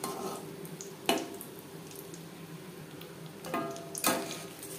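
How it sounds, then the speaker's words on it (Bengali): Egg chops shallow-frying in oil give a low, steady sizzle with a few sharper crackling bursts, heard alone at moderate distance. "আমি শ্যালো ফ্রাই করছি"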